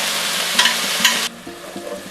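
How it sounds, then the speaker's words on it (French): Marinade poured onto onions frying in a pan for poulet yassa: a loud, steady sizzle with a couple of splashy bursts, then an abrupt drop to a quieter, settled frying hiss with faint clinks. "j'arrive avec ma marinade et je déverse tout avant que les oignons soient trop cuits"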